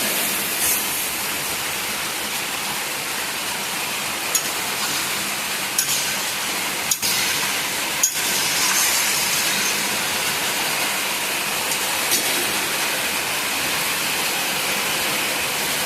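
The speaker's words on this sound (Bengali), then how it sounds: "এবার আমি পরিমাণ মতো জল দিয়ে দেবো।" Water is poured into fried-down masala in a pan for a hilsa fish curry, giving a loud, steady rushing hiss that lasts throughout, broken by a few brief clicks.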